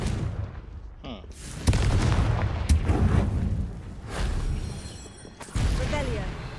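Explosion spell blasts in Hogwarts Legacy, with several sharp booming bursts spaced a second or more apart, each trailing into rumbling debris, while a voice is briefly heard.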